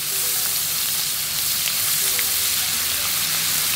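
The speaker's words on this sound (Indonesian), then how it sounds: "Kita goreng sampai mateng ya" Oil sizzles and crackles steadily as small anchovies fry, a dense, even hiss that stays loud throughout with no voices.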